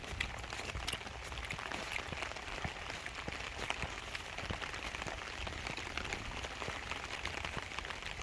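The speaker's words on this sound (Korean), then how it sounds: "비가 와가" Rain falls steadily on a farm with cherry trees, a dense constant patter of drops hitting surfaces nearby, with scattered sharper drips and no voices.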